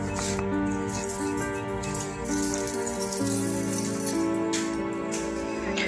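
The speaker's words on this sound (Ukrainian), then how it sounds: "Останнім часом день за днем іде дощ." Steady rain falling outside a damaged residential building in Okhtyrka, a continuous loud patter on surfaces with scattered drips, heard under a tonal hum.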